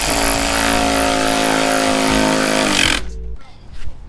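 A power tool drives bolts back in while a Velossatech Big Mouth ram intake is being installed. It gives a steady, loud, close whir for about three seconds, then stops, and faint clanking follows.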